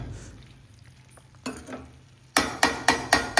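A ladle stirs masala into potatoes and capsicum in a sizzling pan, quiet frying at first, then a run of four or five loud, regular scraping strokes close by.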